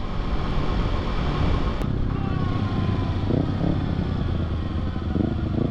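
A Kawasaki Ninja ZX6R being ridden through park areas on a pleasant day, its engine droning steadily beneath heavy wind rush across the helmet microphone, with a brief pitch shift partway through.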